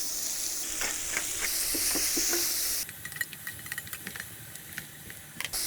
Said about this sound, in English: We're actually deglazing the pan with the vegetables